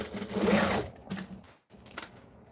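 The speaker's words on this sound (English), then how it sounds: "You can actually stitch this without having to cut it off" A sewing machine stitches fabric in a brief, close whir that fades, followed by a short gap and faint handling clicks.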